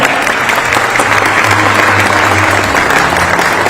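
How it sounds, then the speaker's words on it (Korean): An audience at an official event in Korea breaks into loud, steady applause that holds dense and unbroken throughout. "큰 박수 부탁드립니다."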